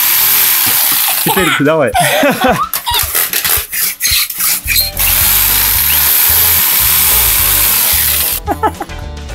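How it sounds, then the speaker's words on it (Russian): A children's toy electric jigsaw from a kids' tool set whirs in a steady close buzzing drone, starting and stopping in short bursts, with a child and an adult talking over it. "Вот такой вот лобзик классный."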